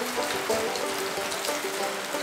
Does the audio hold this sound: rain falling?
yes